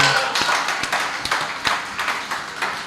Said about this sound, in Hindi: एक बार तालियां बजा दो भाई साहब के लिए